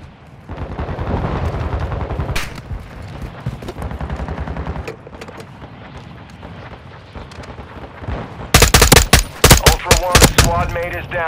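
Gunfire in the DMZ game crackles through a busy battlefield mix, steady rumbling shots giving way to a sharp, loud run of rapid automatic bursts near the end.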